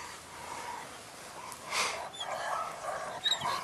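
A Dutch Shepherd dog during guard and protection training gives soft snorts, huffs and a short whimper at close range over faint background noise.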